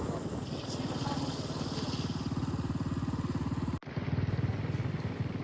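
A motorcycle carrying three riders through a busy city street in Butwal, its engine putting out a steady, close rumble with rhythmic pulsing and wind noise, briefly cutting out near the end before resuming.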